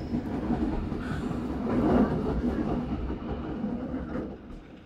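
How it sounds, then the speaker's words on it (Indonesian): A high-speed train passes overhead as a steady rumble of rolling rail noise, swelling slightly toward the middle and fading, heard from below with no talk. "Melintas di atas kita nih kereta cepatnya."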